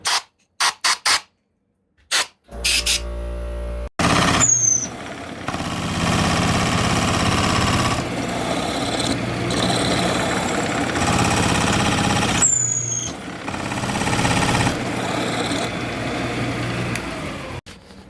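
A Shopsmith drills out a spalted walnut bowl blank, giving a loud, steady machine drone that runs almost continuously after a few short starts and stops, with brief pauses and resumptions partway through and no talking.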